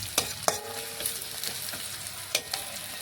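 Ground paste of ginger, cumin, green chili, garlic, cinnamon and black pepper, stone-ground on a sil, hits onions frying in a pan for a Bengali mutton curry, giving a steady close sizzle with a few sharp scraping clatters.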